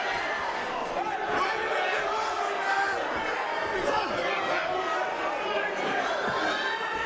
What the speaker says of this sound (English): The crowd are really getting behind their boxer, especially the Birtley boy.